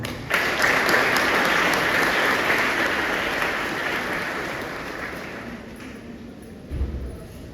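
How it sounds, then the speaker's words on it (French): Audience applause at a school's centenary ceremony, a dense wash of clapping that starts abruptly, stays strong for a few seconds and then gradually thins out, with a brief low thump near the end. "Non sans vos applaudissements, s'il vous plaît."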